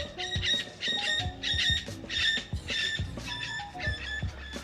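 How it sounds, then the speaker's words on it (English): Small birds chirp and twitter outdoors in a busy, repeating chorus of bright, close calls with no talking. "I wonder if the mic pick up those birds."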